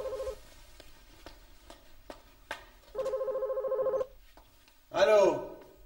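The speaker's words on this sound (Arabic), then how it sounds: "لك حدا يرد على التليفون؟" A telephone ringing indoors in two bursts, a short ring near the start and a longer one a few seconds later, with light knocks between them and a voice calling out at the end.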